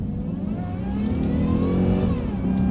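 A 2003 Jaguar S-Type R pulls hard in first gear, its engine note climbing steadily with strong low rumble. It is loud and close throughout, and no one speaks over it.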